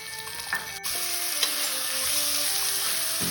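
Steady hiss of tomato sizzling and frying in a pan with cooked onion, loud and continuous, with a few light clinks of stirring near the start.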